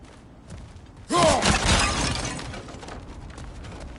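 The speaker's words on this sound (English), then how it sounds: "back to smashing through things for fun and profit." Objects shatter and break apart in God of War Ragnarok, a sudden loud crash of splintering debris and thuds that bursts in, peaks, then trails off into a lingering rumble of ambience.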